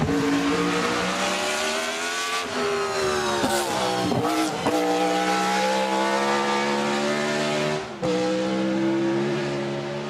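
A BRM 1.5-litre V16 Formula One car roars at the Goodwood Festival of Speed, its high, screaming engine note loud and close, dipping and surging as the revs rise and fall, with no voices.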